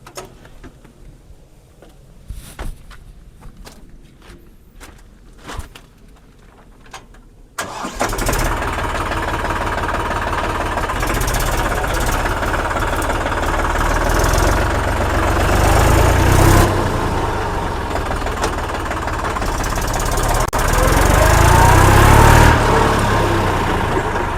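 Two-wheeler and four-wheeler engines crank and fire up, then run loud and steady close by, the idle rising and revving unevenly, after a quieter stretch of faint knocks and handling sounds.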